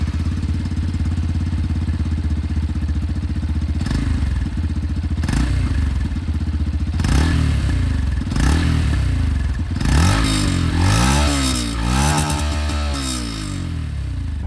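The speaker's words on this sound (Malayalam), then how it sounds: "ഇതിൻ്റെ എക്സോസ്റ്റ് നോട്ട് ഒന്ന് കേട്ട് കളയാം." A 2026 Yamaha FZ Rave motorcycle with a 149cc air-cooled single-cylinder engine, idling steadily and then blipped through several rising and falling revs, loud and close, the later throttle bursts coming in quicker succession.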